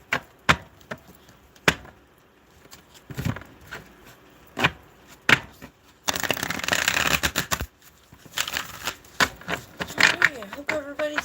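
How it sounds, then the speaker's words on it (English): Tarot cards are shuffled by hand in sharp, irregular riffles and taps, with a denser burst of rapid shuffling midway. A voice talks softly in between. "I'm shuffling."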